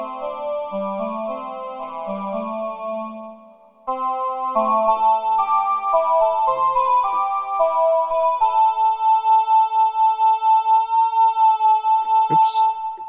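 PPG synth patches played on an Emu Emax 2 sampler, clean sustained tones and short melodic notes, with a clearer brighter sustained line after a brief pause, ending in a faint blip.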